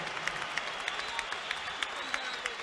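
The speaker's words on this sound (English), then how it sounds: "Let's have a round of applause for these two heavyweights." A boxing arena crowd in an Atlantic City casino applauds after a heavyweight bout, a dense, distant-sounding wash of clapping and crowd noise with faint scattered sharper claps.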